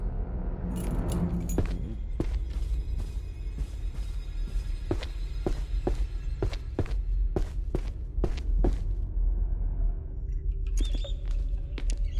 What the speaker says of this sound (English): Must be the keys to the basement closet.